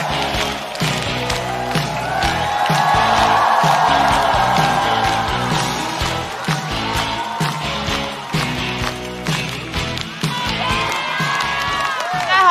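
A large studio audience at a stand-up comedy competition applauds and cheers loudly, a continuous roar of clapping and shouting that swells and holds for the full length, with music running beneath it.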